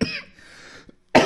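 A person coughs twice, a sharp burst at the start and another at the end, close and loud, separated by a trailing breathy rasp and a short silence.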